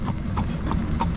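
Horse hooves clip-clop in a steady, even rhythm as the animal pulls an Amish buggy, with about four clear hoofbeats over a constant background rumble of the moving buggy.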